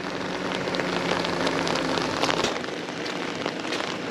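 Steady rain falls on surfaces around a campervan at a mountain campsite near Lushan's West Sea, a dense continuous patter with scattered louder drops, heard alone without talk.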